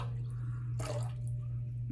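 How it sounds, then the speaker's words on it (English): Water drips from a soaked shaving brush that has been lightly wrung out after soaking in hot water, giving one brief splashy patter over a steady low hum. "which I just wrang the brush out a little bit"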